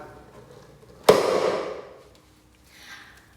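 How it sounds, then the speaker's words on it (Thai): A single sharp pop of a paper party popper made from recycled materials bursting, loud and close, at a school exhibition, followed by a brief rustling fade and quiet. "นี่คือวิธีการสาธิตการใช้พลุกระดาษจากวัสดุรีไซเคิลครับ"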